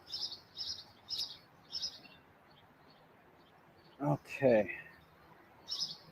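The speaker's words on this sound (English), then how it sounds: "I will try to identify the birds" Wild birds sing in a backyard: a songbird repeats short high chirped phrases in a steady rhythm, with a few lower calls in between, and a person speaks briefly partway through.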